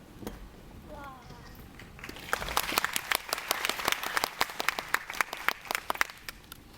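After a few seconds of a voice speaking, an audience at a film screening Q&A for Gosanja bursts into applause, a dense crowd of claps with sharp individual hits that builds and keeps going, then begins to thin at the end.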